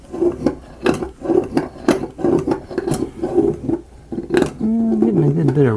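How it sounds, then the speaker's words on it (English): Steel and aluminum metal parts of a mechanical butterfly model rub together in a quick, repeated back-and-forth rhythm of loud, close squeaky scrapes, ending in a longer sustained grinding tone. "Getting a good bit of rubbing there."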